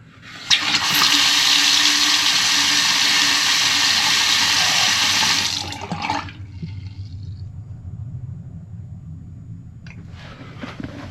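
Water gushes loudly from a just-repaired faucet once the supply line is opened, a strong steady rush for several seconds that then cuts to a quieter trickling, gurgling flow.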